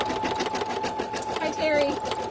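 A sewing machine hums while tacking down a piece of fleece for an in-the-hoop sleep mask, a steady motor drone heard beneath a person talking throughout the short stretch.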